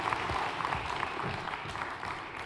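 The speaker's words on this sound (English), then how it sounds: "Let's give a round of applause to Martin." An audience applauds the speaker Martin after a presentation at a seminar, a brief, moderately quiet round of clapping with a slightly uneven rhythm and no talk.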